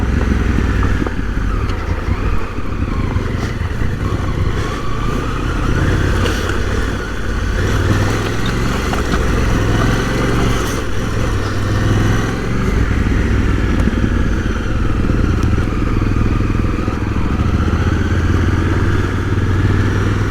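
A 1000cc adventure motorcycle cruises along under a steady, loud engine drone with wind rush and road rumble, holding a continuous ride note with no talk.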